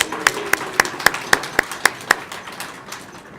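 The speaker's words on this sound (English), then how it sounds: "I just want to give a round of applause to our beautiful museum." Slow, rhythmic clapping at an exhibition opening for the Da Vinci The Genius exhibition in a New Mexico museum: about eight sharp, evenly spaced claps, close and distinct, then fading, with a faint murmur beneath.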